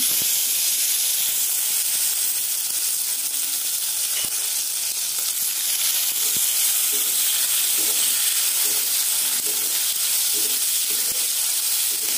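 Chopped tomato hitting a frying spice tempering for Bengali chana dal, a loud continuous hiss and sizzle filling the whole stretch, close up and steady, with faint scraping stirs and no voice.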